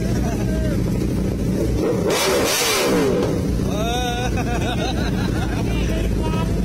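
A 2019 Aprilia RSV4 1100 Factory with a V4 engine and SC-Project exhaust idles loudly, then blips sharply in a short rising rev burst before settling back, with people chatting in the background.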